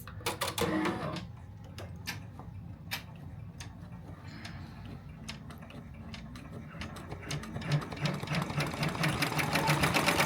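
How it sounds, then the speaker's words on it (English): An embroidery machine stitches a drawing onto a test piece of fabric, making a busy mechanical chatter of rapid needle ticks and clacks over a low motor drone, close and continuous and growing louder toward the end. "I will be embroidering this drawing onto a tote bag, but right now I'm just using a test piece of fabric"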